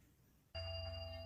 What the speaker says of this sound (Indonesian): Handphoneku berdering seketika keteganganku mengendur.